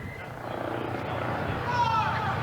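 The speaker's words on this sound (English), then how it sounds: "And our flyover" The Lutheran Air helicopter passes over a festival parade crowd, a broad steady rotor and engine roar that swells toward the end, with a voice talking over it.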